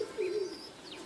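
A pigeon gives a brief, soft coo close by at a racing pigeon loft as the birds return from a race flight, a single low murmur against faint outdoor background.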